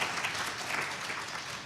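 Audience clapping at a diversity forum, a dense, steady round of applause from a crowd, fairly even in loudness throughout.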